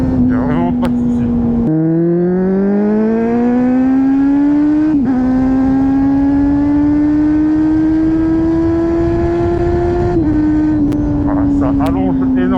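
Kawasaki Z800e motorcycle engine accelerating while riding, a loud steady drone climbing in pitch through the gears with brief dips at shifts, under someone talking.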